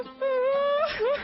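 A woman cries in a high, drawn-out wail that wavers and falls, then sobs again in a second rising moan, loud and close.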